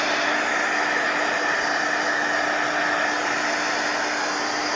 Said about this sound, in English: That will take some matte medium. I'll dry these pieces.